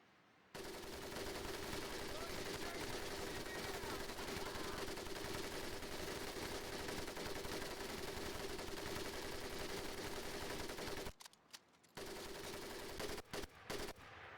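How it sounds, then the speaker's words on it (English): An automatic weapon fires during a training camp in the video game Medal of Honor Pacific Assault: a dense, continuous burst for about ten seconds, then a short gap and a few choppy bursts. "The other will fire the weapon."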